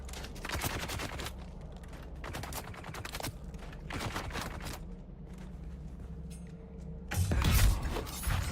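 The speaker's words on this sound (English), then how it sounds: "What are you shooting at, buddy?" Bursts of rapid gunfire from the video game Dune: Awakening come in several clusters amid mechanical clanks and creaks, moderately loud, with a heavier thump near the end.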